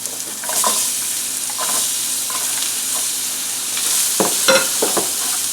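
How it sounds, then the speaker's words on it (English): Peppers, onions and sausage frying in butter in a pan give a steady hiss of sizzling, broken by a few sharp utensil clinks and stirring scrapes, close up with no voices. "let them cook until the onions become translucent"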